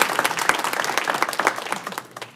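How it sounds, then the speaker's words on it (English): Audience at a school board of education meeting gives a short round of applause for new board members, moderately loud scattered clapping that tapers off over a couple of seconds. "Let's give them a round of applause"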